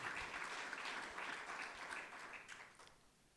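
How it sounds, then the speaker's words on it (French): Audience at a French talk on salmon and leisure fishing claps for the speaker, a soft, fairly distant round of applause that gradually thins and fades out. "on peut l'applaudir. On l'applaudit à la fin."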